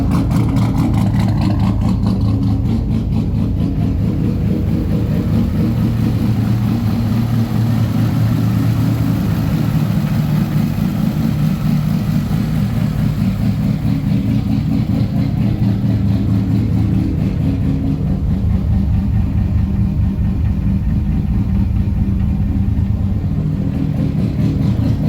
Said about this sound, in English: I'll put a video in of it idling out there.